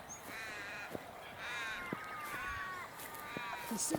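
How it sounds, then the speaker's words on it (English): Several crows caw repeatedly on a rural farm, their harsh calls overlapping at middle distance over a steady wind-like background hiss. "Lots of crows."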